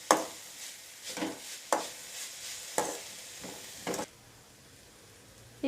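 A spatula stirs and scrapes vegetables with sugar and black pepper in a hot pan for veg fried rice, about six rhythmic sweeping strokes under a soft sizzle, then a quiet pause before one last scrape.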